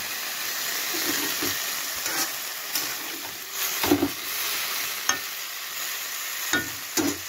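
A small amount of water poured into a cauliflower curry in the pan brings a continuous hissing simmer, broken by several short scraping stirs of the spoon at uneven intervals.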